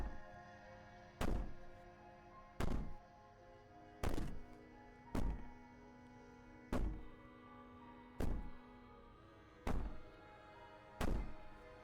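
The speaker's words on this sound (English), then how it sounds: "Bang in the door all you want" Heavy banging on a door in the video game Slay the Princess: eight loud, evenly spaced thuds about every one and a half seconds, each one a sharp impact, heard over a steady low droning music bed.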